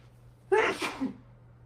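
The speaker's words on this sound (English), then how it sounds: "Pulled my shoulders and I sneezed." A single loud sneeze right up close, a sharp breathy burst with a brief tail, followed by quiet.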